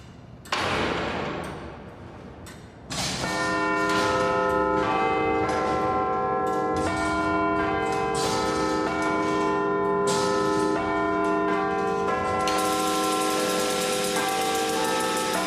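Restored Victorian clock mechanism sounding its chimes: a sequence of resonant bell strikes ringing out one after another, each tone sustaining and overlapping into a rich, loud, layered peal with no talking.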